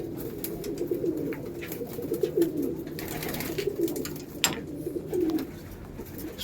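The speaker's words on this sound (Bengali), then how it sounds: "আর কিছু বাচ্চা পায়রা খাচ্ছে এখানে।" Pigeons, including young birds and Tulsi Kalshira pigeons, coo over and over in a double-deck cage at home, a dense overlapping murmur of low burbling calls close by with scattered clatter and no talking.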